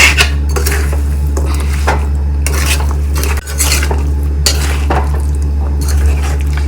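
Spicy beef pickle being stirred in a pan with a metal spoon, repeated loud scrapes and clinks against the pan over a faint sizzle, no talking.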